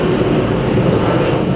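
An airplane roars steadily overhead, a loud, broad, continuous rumble that stays constant and dominates throughout with no voices present.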